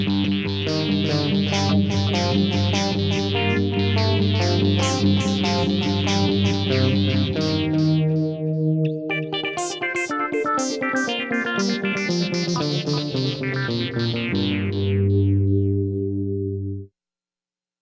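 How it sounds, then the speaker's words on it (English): Roland GR-55 guitar synthesizer patch with the synth filter swept by pick attack, playing a continuous run of plucked notes with shifting, wah-like tone for about seventeen seconds before stopping abruptly. "On this patch, I can control the synthesizer filter with my pick attack,"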